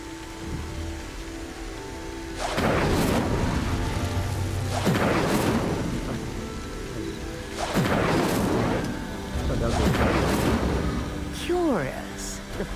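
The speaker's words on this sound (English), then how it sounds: "The flames make the pyre sink." In the game Hogwarts Legacy, stone pyres lit with the Incendio spell sink one after another, each descent a rumbling, grinding crash over a low ambient hum, four heavy surges in all, with a voice speaking over them.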